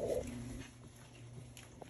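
A pit bull mother among seven puppies gives a brief, faint whimper near the start, followed by quiet background rustling.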